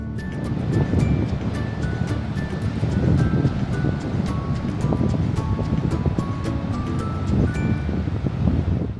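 Waves pound a high-stacked cobble beach shore on the Irish coast, surging and crashing repeatedly nearby with rattling stones and gusty wind noise throughout.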